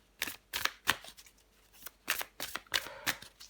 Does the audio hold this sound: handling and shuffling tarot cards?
yes